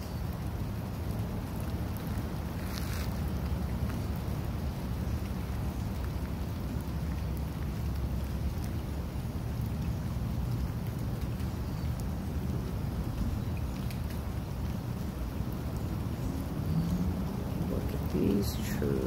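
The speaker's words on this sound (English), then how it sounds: "Got a little rain going on today." Steady rain falls at Potash Lake, a continuous broadband hiss that stays even and fairly loud throughout, with faint low rumble beneath and a brief louder patter near the end.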